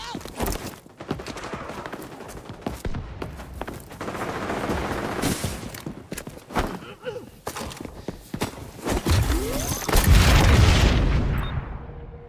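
A frag grenade going off in the shooter game XDefiant amid continuous rapid gunfire, a heavy close boom standing out late in the chaotic firefight, with voices calling out over the action.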